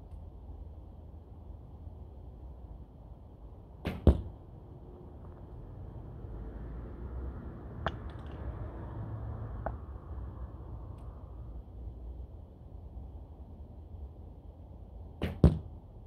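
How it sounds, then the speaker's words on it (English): Arrows shot from a Black Sheep Nova 35-pound recurve bow in cold outdoor air: sharp snapping releases, one at about four seconds and another near the end, with a couple of fainter ticks between them over soft wind rumble. "I fired three arrows"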